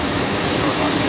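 Jet airliner taking off at night at Brisbane Airport, a loud, steady broadband engine roar that stays constant and close throughout the short moment.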